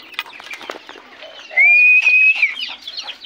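Chickens and newly hatched chicks in a farmyard, giving scattered soft clucks along with one clear, drawn-out high chirp in the middle.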